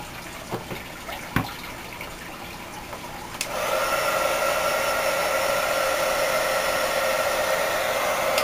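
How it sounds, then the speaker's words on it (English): A heat gun starts at about three and a half seconds and blows a steady, loud whooshing hiss without a break to the end, used to heat embossing powder on polymer clay. A few light clicks and handling taps come before it. "I let my heat gun heat up off to the side before I bring it over to the polymer clay"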